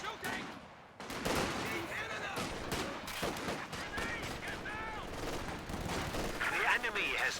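Gunfire in Company of Heroes: dense, rapid bursts of rifle and machine-gun shots cracking in quick succession, with explosive thumps and battle sounds layered throughout, fairly close and continuous.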